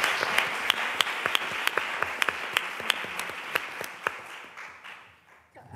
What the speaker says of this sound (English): Will you stand up, Mariana, and just get a round of applause?